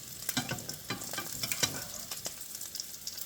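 Lentil sausage frying in a pan, a faint continuous sizzle with scattered sharp crackles and pops, heard close up with no voice.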